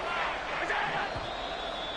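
Steady home crowd roar fills a Bills football stadium at a third-and-short snap, a dense continuous wash of many voices that stays loud and even throughout.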